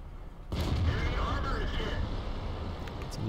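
A tank gun shot from the Object 907 in World of Tanks, with a sudden heavy boom followed by a long rumbling decay that fills the rest of the moment, with a voice talking over it.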